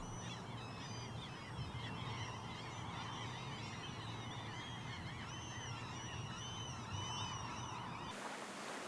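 A pair of trumpeter swans calls near a lake beside a highway in Anchorage, Alaska, with repeated honking, trumpet-like notes carrying steadily over a continuous low background rumble for several seconds.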